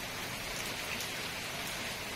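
Heavy rain falling in big drops, a steady dense patter of drops on surfaces, soft and somewhat distant, with no voices.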